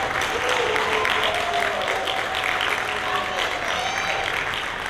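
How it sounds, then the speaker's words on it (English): Steady applause from a crowd at a youth council graduation in Savannah Civic Center, dense clapping that holds at an even level throughout, with faint voices mixed in. "Let's all give them another big round of applause."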